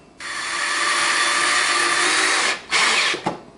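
A power drill drives a deck screw in one long steady whine lasting a few seconds, then stops briefly and gives two short bursts to finish.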